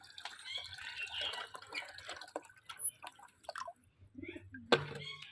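Water poured into a container for pet birds, irregular splashing and trickling nearby with scattered drips and a louder splash near the end, with faint background sounds.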